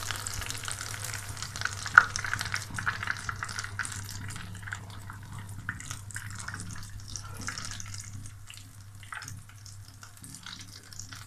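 Potato kebabs (aloo tikki) frying in oil in a pan, a steady, soft close sizzle that holds throughout with a low hum beneath and no talking.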